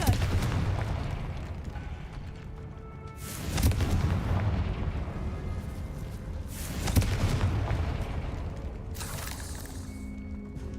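Confringo fire spell blasts in Hogwarts Legacy strike with three deep, booming bursts a few seconds apart, each heavy impact fading into rumbling, crackling debris over a continuous low game soundscape.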